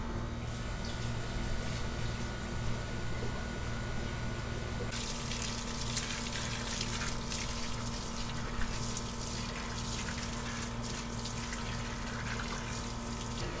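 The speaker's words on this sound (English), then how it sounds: "I'm just gonna give it a quick rinse," Water from a hose rinses the inside of a pool sand filter, a continuous hissing splash that runs steadily for the whole stretch and grows brighter and stronger partway through.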